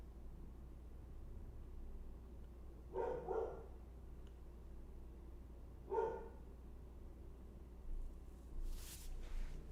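A dog barks a few times indoors during live severe-storm weather coverage, the short barks fairly faint and spaced apart over a steady background hiss.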